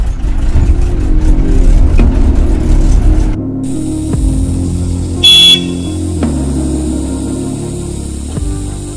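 A vehicle drives along a rough road toward Gudisa, a loud steady engine hum and rumble with bumps and rattles, the tone dropping partway through, with a brief high squeak and no voices.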